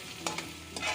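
Whole spices fry in oil for chana matar pulao, giving a short, crackling sizzle with a few quick stirring scrapes, close and fairly quiet.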